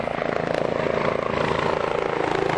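Medical rescue helicopter of the Dragon 17 base running steadily close by, a loud continuous rotor chop with a dense engine whine, no pauses or talk.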